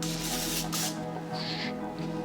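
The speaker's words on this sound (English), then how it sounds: "I'm just gonna spray down all these ramekins with a little bit of nonstick spray." Two short hissing bursts from a can of nonstick cooking spray coating ramekins, close by, with a pause between them over a low steady hum.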